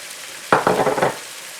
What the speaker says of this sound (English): I'm going to add the egg to this one.